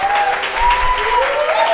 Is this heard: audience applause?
yes